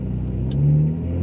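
Car engine revving hard in a short burst, the rising mid-pitched roar swelling close and loud, then easing back toward idle.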